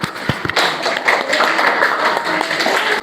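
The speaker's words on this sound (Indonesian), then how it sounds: "Beri aplaus untuk kelompok 2." A group of people in a school classroom session clapping, a steady patter of applause lasting a few seconds at moderate volume, with no talk over it.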